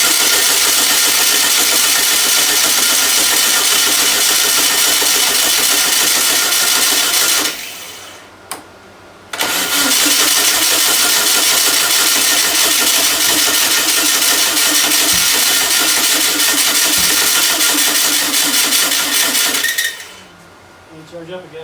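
A Volkswagen engine starts for the first time and runs loud and steady, cuts out briefly, then catches again and keeps running before dropping off near the end.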